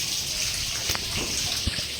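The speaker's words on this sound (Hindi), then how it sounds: "इस तरीके से पानी गिरेगा, लग रहा है कि कोई समुद्र से पानी झरना गिर रहा है।" Water pours steadily over a Thakur ji deity during a Mohini Ekadashi bathing ritual at home, a loud continuous gushing stream with a few splashy bursts and no voices.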